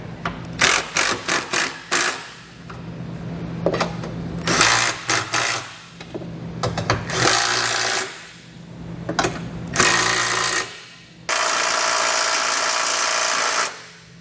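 Hand tools snugging down bolts while a Curt trailer hitch receiver is installed on a 2012 Infiniti G25: close, irregular bursts of metallic ratcheting and clicking, with a few longer steady runs and pauses between them.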